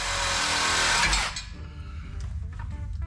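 A Sawzall reciprocating saw cuts off a part on a Willys Wagon overlander build, a loud dense cutting roar for about a second that then drops to a quieter, rougher rasping as the blade works on.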